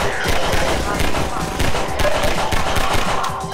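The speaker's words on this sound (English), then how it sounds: "He's got a machine gun!" Enemy machine gun fire in the Half-Life 2 video game, rapid bursts of loud close gunshots rattling in quick succession with brief gaps, continuous over several seconds.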